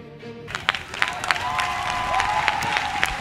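A church congregation at a Sunday service applauding and cheering to acclaim Jesus Christ, a swelling burst of clapping with voices rising loudly underneath and a sustained sung or shouted tone.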